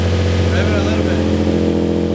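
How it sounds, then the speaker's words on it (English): An Infiniti G35 engine runs close and loud with a deep, throaty note as it is revved lightly, while people talk nearby. "Rev it a little bit."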